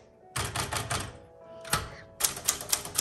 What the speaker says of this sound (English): This is a great manual typewriter.